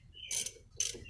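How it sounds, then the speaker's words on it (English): A ratchet wrench tightens a bolt on the brake of a 2015 Mazda3, giving two short bursts of rapid clicking separated by a brief pause, close and fairly quiet. "Take and tighten it up with the wrench."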